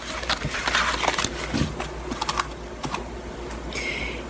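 Playing cards pulled one by one from a deck for a tarot-style reading, giving a series of soft, close papery snaps and flicks with short pauses between them.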